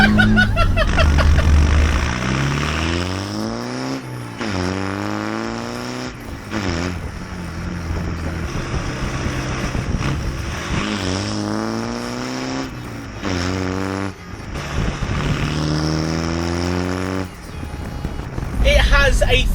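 A Land Rover Defender 90 with a swapped 300 series engine accelerating through its gears, loud rising engine tones that sweep up repeatedly with pauses between shifts, heard from inside the vehicle.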